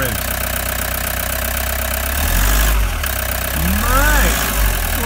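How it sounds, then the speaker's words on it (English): Toyota Hiace engine just after a cold start, idling steadily and then given two gentle revs that rise and fall, close and fairly loud with no talk over it. "just give it a little rev, like a little gentle rev"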